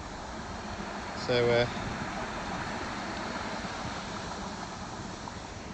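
Steady broadband rush of water flowing at a small river weir pool, continuous and moderately near, with a brief spoken word over it early on.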